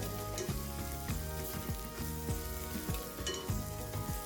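Onions sauté in a pan for chicken chukka, giving a steady, moderate sizzle broken by repeated rhythmic scrapes of a spoon stirring through them. No voices are heard.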